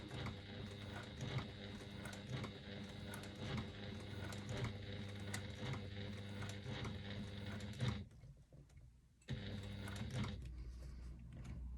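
Sewing machine stitching fabric slowly around curves on strap connectors, giving a quiet, continuous mechanical hum with regular faint needle ticks, briefly stopping near the end before resuming.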